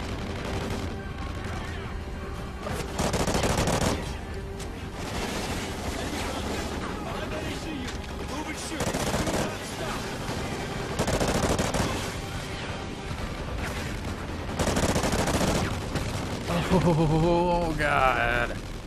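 Gunfire fills a Call of Duty: Ghosts campaign mission, with dense machine-gun bursts and single shots repeating in loud clusters over about twenty seconds, alongside booms and some battlefield noise.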